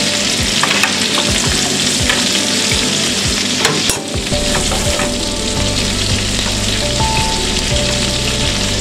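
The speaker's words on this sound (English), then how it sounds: "And putting the butter over it, basting the salmon" Salmon sizzles loudly in a pan as it is basted with butter. The close, dense frying hiss has crackles and spattering pops, with occasional clinks partway through, and there is no talk.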